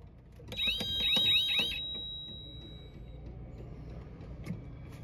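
Custom anti-shaking alarm on an arcade machine, set short: a shrill electronic warbling tone sounds for about a second, then a thin lingering beep fades, with low background rumble throughout.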